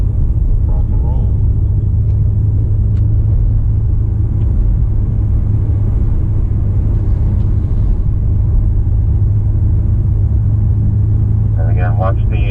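A BMW M5 Competition drives the F1 road course at Indianapolis Motor Speedway, with a loud, steady engine and road rumble heard from inside the car. A person talks over the noise.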